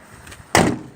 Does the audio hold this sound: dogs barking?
no